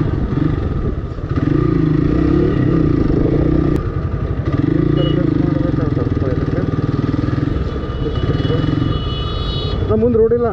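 Motorcycle engine droning steadily and close throughout a ride along an empty road, a constant rumble with rattling clatter, while people talk over it almost the whole time.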